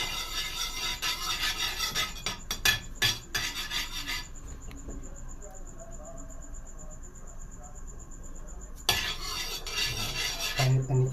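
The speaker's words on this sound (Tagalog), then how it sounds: "Kanit-kanitin natin ang kawali bago natin ilagay itong liempo na ginayat natin." A utensil scrapes and stirs in a cooking pan before sliced pork belly goes in for Bicol express, with a few sharp clinks early on and quieter scraping later, over a faint background hum.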